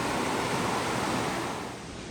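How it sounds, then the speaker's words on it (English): The Little Salmon River flowing at the end of a canyon beside Highway 95, a continuous broad rushing roar of water that stays loud and steady before easing slightly near the end, with no voices. "listen to the Little Salmon River"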